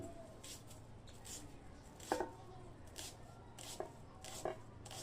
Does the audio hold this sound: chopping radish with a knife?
yes